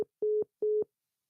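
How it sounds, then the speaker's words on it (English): A telephone line goes dead into a repeating tone: a short click, then two evenly spaced, steady beeps with silence between them, loud and clear. "That's my phone went dead."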